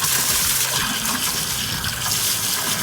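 Cold water gushes steadily from household plumbing during a home repair, a loud, continuous broadband rush with no talking.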